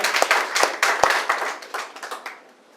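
An audience at a hotel gathering claps for its leaders, starting as a burst of close, sharp hand claps that thins out and fades away over about three seconds.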